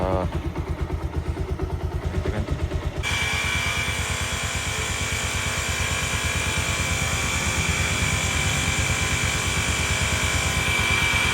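A motorcycle engine idles with a rhythmic chug, then revs up to a loud, sustained roar that holds steady close by.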